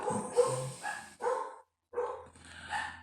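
A small Shih Tzu Yorkie mix dog gives a few close, loud barks and yips, with short vocal bursts separated by a brief pause.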